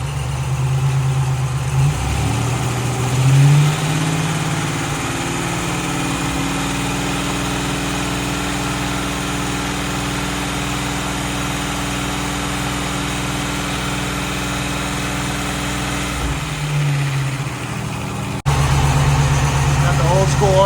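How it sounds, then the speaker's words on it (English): A Buick Grand National idles steadily with its air-conditioning compressor cycling off, a close, continuous engine drone with a small shift in tone partway through, no talk over it. "Compressor's cycling off."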